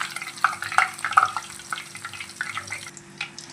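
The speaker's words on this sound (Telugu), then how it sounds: "అన్ని పూరీల్ని చక్కగా ఇలా ఫ్రై చేసేసుకోండి, డీప్ ఫ్రై చేసేసుకోండి" Puris deep frying in hot oil on a stove, giving a close, bubbly crackling hiss with scattered brighter pops that gradually settle over a few seconds.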